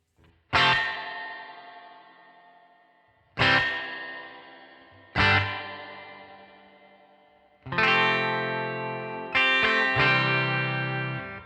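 Electric guitar through a Headrush Spring Guru spring reverb pedal: four struck chords, each ringing out with a splashy, drippy spring tail that decays slowly, the last two hit in quick succession.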